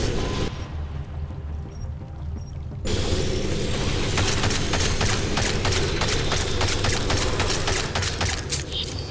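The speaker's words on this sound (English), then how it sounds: "They're just shooting people in the sewers." Rapid bursts of gunfire crackle through a sewer level of Deus Ex: Mankind Divided, starting after a quieter stretch and running dense and loud with repeated sharp cracks over a rumbling bed.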